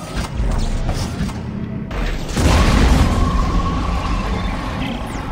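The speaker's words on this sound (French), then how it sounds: "Trichlorure d'azote. Ça explose avec la chaleur." A nitrogen trichloride charge set off by heat in the sci-fi horror game Dead Space 2 erupts in a loud, deep blast about halfway through, then rumbles on amid mechanical creaking and groaning metal.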